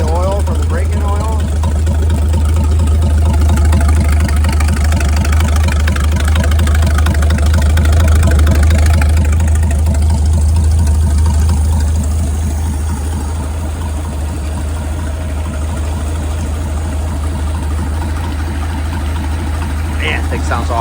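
A rebuilt Chris-Craft Model W marine engine idles warmed up on a test run, a steady deep rumble with a faint rhythmic pulse that swells slightly and then settles, while people talk over it.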